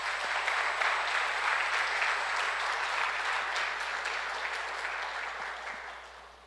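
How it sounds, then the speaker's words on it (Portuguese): Church congregation applauding in praise, a dense, continuous wash of many hands clapping at moderate volume that holds steady and fades slightly at the end. "Pode aplaudir o Senhor Jesus"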